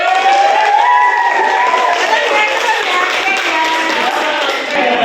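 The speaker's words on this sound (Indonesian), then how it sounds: "Oke, beri tepuk tangan." Clapping from a seated audience at an emotion-management workshop, a steady burst of many hands close by with lively voices and cheers mixed in, trailing off slightly near the end.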